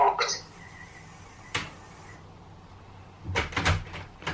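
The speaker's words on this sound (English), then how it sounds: "to test that that's worked, we can then lock the door" Blusafe Origin Smart safe door locking: a cluster of sharp mechanical clicks at the start, one crisp snap a moment later, then a rattling burst of clunks near the end, all close and fairly quiet.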